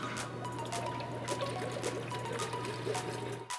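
Purple coolant pouring and trickling into a Corsair Hydro X custom liquid cooling loop, a steady close splashing stream over a low constant pump hum, with a few soft clicks.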